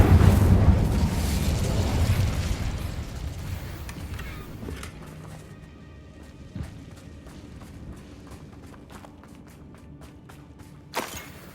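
A fire spell is cast in the Hogwarts Legacy video game, erupting in a loud roaring whoosh of flame that fades into rumbling combat noise, with a few sharp impacts later.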